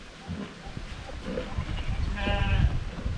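A goat bleats with a wavering, nasal cry amid rustling and other animal noises, including buffaloes, nearby, heard in a noisy outdoor setting in Nelliyampathi, Palakkad.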